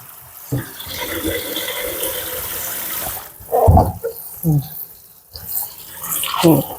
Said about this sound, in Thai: ก็มาล้างเอาน้ำร้อนออกนะคะเพราะน้ำแรกมันจะร้อนค่ะ